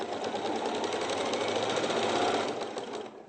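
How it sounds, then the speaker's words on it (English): A sewing machine stitching quilt binding, running continuously at a fast steady pace with a close mechanical whir and rapid needle rhythm, briefly slowing at the end, with no talking. "the trick then is we're going to sew down towards the corner."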